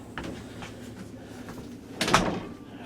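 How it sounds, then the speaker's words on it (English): A workshop door swings open with a short, close clatter of handle and frame about two-thirds of the way through, set against a quiet room hum. "Door is unlocked for once."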